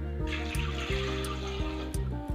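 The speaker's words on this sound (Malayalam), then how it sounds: "ഒരു കപ്പ് വെള്ളം മാത്രം ഒഴിച്ചു കൊടുത്താൽ മതി." One cup of water poured into a pressure cooker holding eggs while making Malabar-style egg biryani, a steady close splashing stream with a few brief pulses, no talk.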